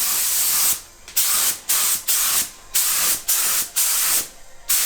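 A spray gun lays coating onto molded widebody fenders for an Accord, giving loud, close bursts of airy hiss in about eight repeated passes, each cut by brief pauses.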